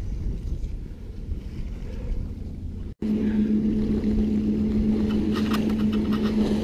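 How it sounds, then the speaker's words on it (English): Steady low rumble of water and wind on a river with a brief dropout, then a constant engine hum as a passing boat's wake washes in close by. "waves coming in from a boat that just passed"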